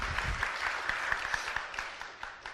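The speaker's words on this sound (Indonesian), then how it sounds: "Wah, tepuk tangan, bagus sekali" Applause from an audience at an evening Buddhist gathering: a quiet, dense patter of many hands clapping steadily for a few seconds with no voices over it.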